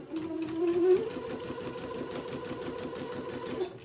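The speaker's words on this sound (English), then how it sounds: "I'll sew my second thread about 1/4 of an inch away from the first thread" A sewing machine runs steadily at close range, sewing a second line of basting thread across an heirloom bubble romper for a one-year-old boy. It whirs with a fast, even stitching rhythm after a brief louder start, and no one speaks.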